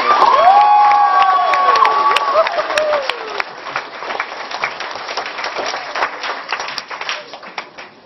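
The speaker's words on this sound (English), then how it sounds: "How about a round of applause for that?" A theater audience at the Steve Allen Theater breaks into applause and cheering, loud at first and then thinning into scattered clapping, with a few shouts and voices mixed in.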